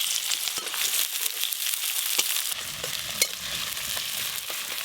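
Chopped onion frying in hot oil for a fish curry with jackfruit leaves makes a loud, continuous sizzle with occasional sharp crackles and a clink from the pan, close up and free of speech.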